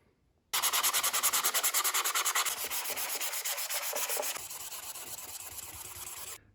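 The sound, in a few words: sanding plastic with fine sandpaper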